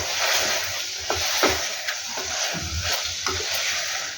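Mushrooms with turmeric, ground cumin and coriander powder fry in a pan while a spoon stirs them. A steady close sizzle runs under repeated scraping strokes at an uneven rhythm, with no talking.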